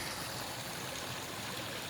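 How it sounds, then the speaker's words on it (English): A small stream at a trail crossing on the Appalachian Trail burbles and trickles steadily, close by, a continuous bright wash of running water with no voices. "Got a little creek crossing here."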